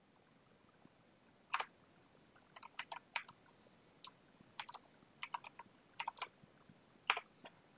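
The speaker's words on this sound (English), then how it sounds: "Let's type in Joe Fundy" Typing on a computer keyboard, quiet irregular clusters of crisp key clicks in short bursts, close but faint against a soft background.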